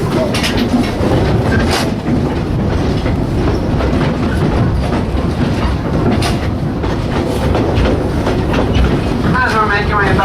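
A train rumbles steadily along the tracks with rhythmic clickety-clack of wheels, loud and close, with a faint squeal near the end.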